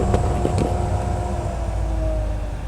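A remote-controlled dust collection fan pulls air through a shop hose at a knife-sharpening business, giving a steady, loud, unbroken whoosh and hum with no speech.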